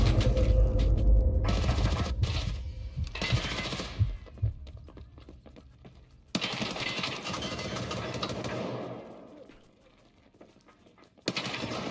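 A player's rapid gunfire in a video game, loud bursts of shots with mechanical clatter, fading and returning in uneven waves.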